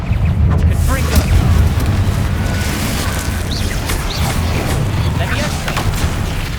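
Repeated Confringo fire-spell blasts in Hogwarts Legacy, heavy booming bursts over a dense low rumble of combat noise that stays loud and continuous throughout.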